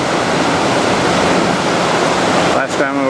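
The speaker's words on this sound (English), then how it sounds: "This is water heading towards the falls, which is right there." Rushing water heading toward Niagara Falls roars as a steady, loud broadband wash throughout, with a brief break and a faint voice-like tone near the end.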